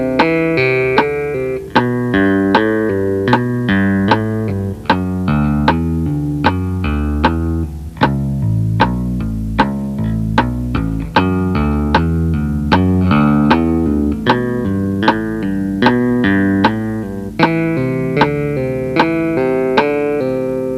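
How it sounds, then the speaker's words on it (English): Bass guitar tapping exercise played with both hands using hammer-ons and pull-offs, a steady stream of crisp, clearly separated notes in a repeating pattern, loud and alone with no talking. "what we're going to be exploring on this tape is the use of both the right and left hands together to play hammer-ons and pull-offs"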